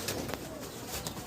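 Pigeons coo softly at a pigeon farm, a brief low burbling call against faint background noise.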